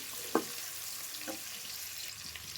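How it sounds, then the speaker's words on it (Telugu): Onions frying in butter for a restaurant-style buttered broccoli dish, a faint, soft sizzle with one sharp stirring knock and a lighter scrape, heard close with no speech. "ఇప్పుడు ఇందులోకి ఉల్లిగడ్డలు వేసుకోండి ఉల్లిగడ్డలు వేయగానే కూడా మంచిగా కలపండి"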